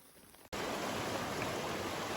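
Steady broadband rush of flowing river water heard from a tent in the Canadian Rockies backcountry, loud and continuous like heavy rain, starting abruptly after a brief quieter moment.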